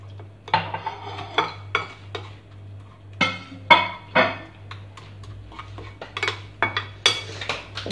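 A spoon clinks and scrapes against a bowl while chicken marinade is stirred together with a splash of water, giving a close, irregular run of bright metallic taps and swishes.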